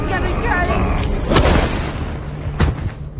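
Gunshots in a thriller film set on an isolated farm, two sharp booming bangs about a second apart, heard under narration and dialogue.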